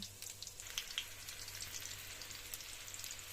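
Chopped chicken cutlets fry in a pan, a quiet steady sizzle with scattered small pops and crackles, heard close and alone.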